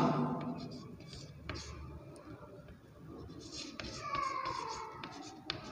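A hand writes out a geometry proof with pen on paper, close soft scratching strokes in short bursts, with faint voice and background noise underneath.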